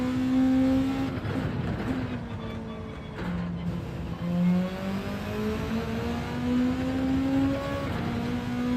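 A Volkswagen Beetle engine racing on the Deep Forest circuit in Gran Turismo 7, a steady buzzing drone that rises and falls through gear changes as the car accelerates, close and continuous throughout.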